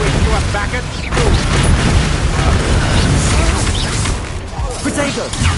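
Confringo spell blasts in Hogwarts Legacy, loud booming explosions filling the clip in dense overlapping bursts, with dialogue mixed in among the roaring impacts.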